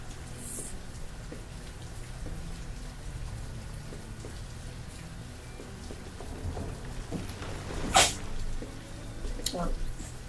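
A single short sneeze cuts through soft steady background noise, followed by faint shuffling and a quieter second burst.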